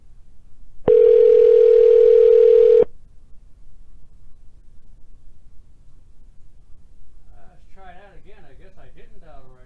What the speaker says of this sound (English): I just tried to call and it just rang and rang and rang.